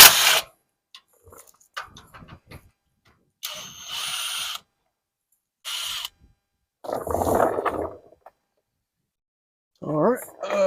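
Power tool spinning out 15 millimeter sway bar bolts on a 2004 Ram 3500, several short loud mechanical bursts separated by silent gaps, with a voice talking in places.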